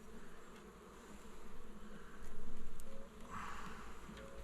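Honey bees hum steadily around an open hive during an inspection, a soft continuous drone that swells and fades as individual bees pass near, with no voices.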